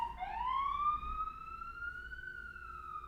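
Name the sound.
ambulance siren outside a New York City apartment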